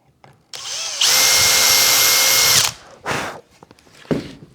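A power drill spot-drills a hole into a workbench top, spinning up with a loud steady whine for about two seconds, then stopping, followed by a few short bursts and some shuffling handling noise.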